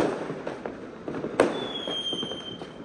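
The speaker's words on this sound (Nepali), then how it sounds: "पुरै केटाहरूले पड्काएको पड्काइरहेको छ" Firecrackers bursting during Diwali celebrations in Malaysia, a series of sharp pops and cracks, one louder nearby bang among scattered distant bursts, with a whistling rocket streaking after it over a crackling outdoor background.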